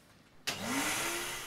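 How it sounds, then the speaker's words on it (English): A vacuum cleaner switches on abruptly, its motor whining up in pitch and settling into a loud, steady rushing drone. "So I have to start the vacuum cleaner as well."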